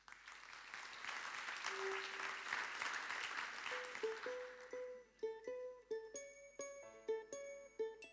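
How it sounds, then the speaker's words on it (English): An audience at a European communication summit claps for a speaker in a dense, sustained round of applause. Bright chiming tones rise over it and continue as the clapping thins out. "Please give a warm round of applause to Gunhild A. Stordalen."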